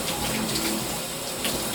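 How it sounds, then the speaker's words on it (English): Water sprays steadily from a 12-inch rain shower head fitted with a water restrictor, a constant close hiss of falling droplets with no pauses. "I'm going to go ahead and switch it over to the rain shower."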